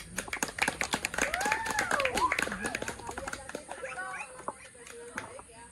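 A class claps in a quick, dense patter of many hands at a steady moderate level, with voices talking and calling out over the clapping.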